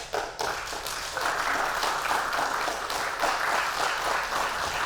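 Audience applause at a Yiddish song event, a steady dense clapping from a sizable crowd that swells slightly and carries on for several seconds without speech.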